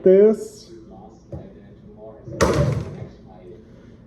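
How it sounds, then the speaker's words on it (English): A handheld radio scanner falls and hits a hard surface with a sharp thud and clatter midway through, while someone talks before and after it. "Sorry about that noise, my radio scanner just fell."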